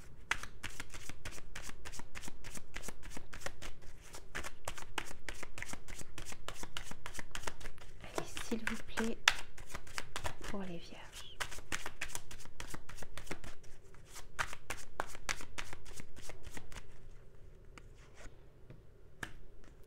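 Tarot cards are shuffled close up for about twenty seconds in a steady run of crisp, rapid riffling snaps with brief pauses. Someone speaks briefly during the shuffle.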